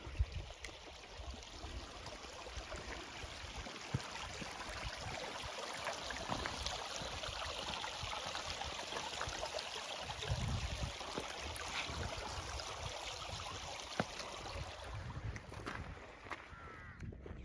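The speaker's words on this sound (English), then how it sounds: "Continuing on it alongside this little river for now." A little river in the Lake District rushes steadily beside a footpath, a constant broadband babble and hiss with some wind buffeting, faint and continuous with no voices.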